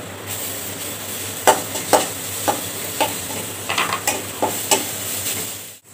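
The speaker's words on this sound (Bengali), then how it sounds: "এখন আমি গাজর কুচিটা দিয়ে একটু ভেজে নেব।" Chopped carrot frying with onion and green chili in a pan, a steady close sizzle broken by a dozen sharp scrapes and knocks of a spatula stirring against the pan, no voices.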